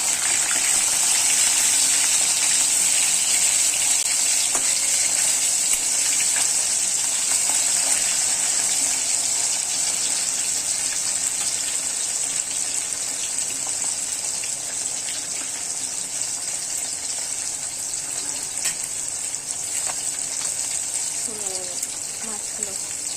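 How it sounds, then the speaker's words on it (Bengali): Fish frying in a pan of hot oil while cooking a fish curry, giving a loud, steady hiss of sizzling that runs continuously throughout with only faint clinks underneath. "মাছগুলো আমার ভাজা হয়ে গেছে"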